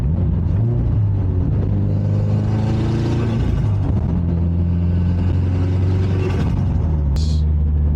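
A Subaru WRX with FBO and equal-length headers accelerating through gears, its deep engine rumble rising in pitch, dropping at each shift and climbing again, loud and close from inside the car.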